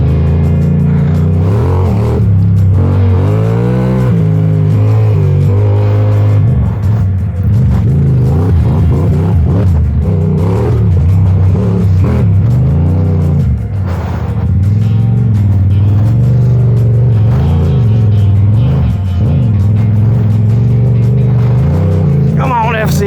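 A Yamaha MT-07 (TW700) street motorcycle is ridden at an adventure rally, its engine droning loud and close while the pitch rises and falls with throttle changes.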